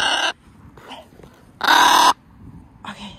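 Crows caw loudly and close by in the open sky while a red-tailed hawk is around: four harsh calls, the third longest and loudest, with short gaps between them.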